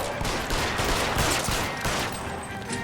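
Gunfire during an L.A. Noire video game chase, a loud, dense burst of repeated shots that blend into a continuous volley, close and harsh with no talk over it.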